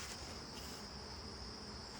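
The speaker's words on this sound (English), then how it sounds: "So we've got bees in the honey super." Honey bees in the honey super of a hive in summer heat give a faint, steady high buzz that holds evenly for a couple of seconds with nothing else over it.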